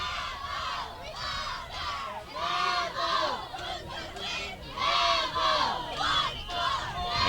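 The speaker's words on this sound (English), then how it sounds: "as you can hear, the Blue Devil crowd getting right into it" A high school football crowd for the OFA Blue Devils roars and shouts continuously at kickoff, a dense wall of cheering and yelling voices rising and falling in waves.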